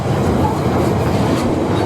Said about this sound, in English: A Class 47 flew through, heading southbound with a long freight train